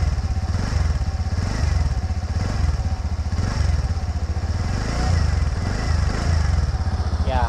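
A TVS Ntorq sport scooter engine runs close by with a throaty, pulsing exhaust rumble, rising and falling in several short revs with no talking.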